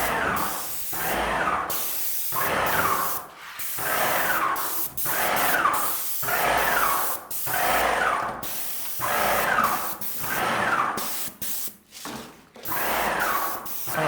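Water sprays in repeated hissing bursts from a sprayer, roughly one burst every second and a half, close and fairly loud with short pauses between.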